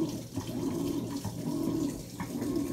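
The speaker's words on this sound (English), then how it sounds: "There's the water coming down into it." Water pouring steadily into the drum of a Kenmore Elite push-button washing machine as it fills, a close, continuous rushing splash with slight fluctuations.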